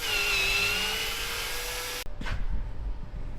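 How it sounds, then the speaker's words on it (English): A power drill bores into a rusty metal part of an abandoned rotary-engine pickup, whining steadily and loud for two seconds, then cutting off into scrapes and clunks. "I'll get a drill bit."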